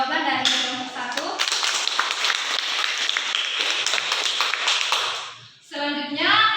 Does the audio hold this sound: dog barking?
no